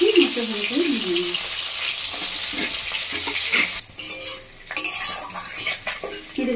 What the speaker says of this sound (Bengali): মাছটা কড়ার মধ্যে দিয়ে দিয়েছি, মাছটা ভালো করে ভেজে নেব।